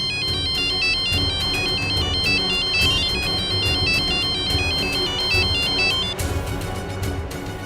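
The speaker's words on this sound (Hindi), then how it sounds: "मैंने एक नए सिम कार्ड से आवाज बदलकर सम्राट को फोन किया" A phone ringtone plays loudly and alone, a repeating electronic melody of bright tones that runs for several seconds with no one speaking.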